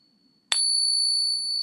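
A genuine silver Morgan dollar coin rings out with one sharp strike at close range, then sustains a clear, steady bell-like tone that hangs on to the end without fading much.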